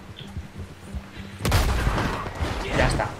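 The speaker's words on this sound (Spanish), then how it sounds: "Pega un tiro al caballo" Gunfire at a horse in the video game Red Dead Redemption II erupts suddenly after a quieter stretch of voices, a loud burst of rapid shots with further cracks following under game sound.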